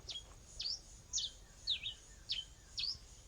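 Brazilian songbird calls, six short bright chirping phrases spaced evenly about half a second apart, fairly faint and alone against quiet background hiss.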